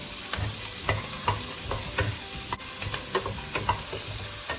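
Potatoes and beans sauté in a pan, a steady frying sizzle broken by repeated scraping clicks of a spoon as the vegetables are stirred again and again, close and clear with no talk.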